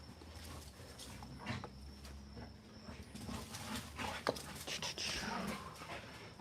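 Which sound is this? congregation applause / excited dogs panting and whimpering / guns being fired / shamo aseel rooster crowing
excited dogs panting and whimpering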